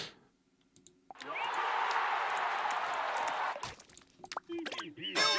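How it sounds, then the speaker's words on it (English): A cheering crowd sound effect from a boxing game built in Game Builder Garage swells in as a steady, loud roar for about two and a half seconds, then cuts off, followed by clicks and a voice talking. "I never want to hear the crowd sound effect ever again."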